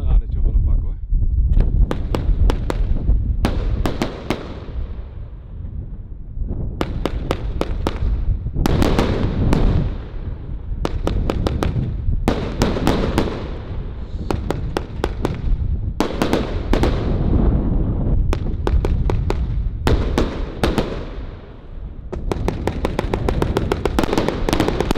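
A Kingdom China Red 50-shot firework cake fires a long rapid barrage of loud, sharp bangs in quick bursts, with crackling tails between volleys, set off outdoors on New Year's Eve.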